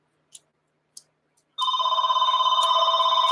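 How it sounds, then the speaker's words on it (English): A telephone rings with a bright electronic trill that starts abruptly and carries on steadily, loud and close, after two short faint clicks. "And of course the phone rings"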